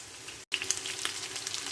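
Mustard seeds crackle and sizzle in hot oil for a fish curry, a steady close frying hiss with small pops and one brief break in the sound, no voices.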